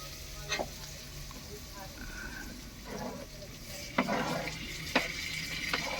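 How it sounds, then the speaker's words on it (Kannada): Tomatoes go into a pan of frying onion and garlic with a soft background sizzle, broken by several sharp clicks and scrapes of a stirring utensil against the pan, fairly quiet and close. "ಟೊಮೊಟೊ ಹಾಕ್ತಾ ಇದ್ದೀನಿ"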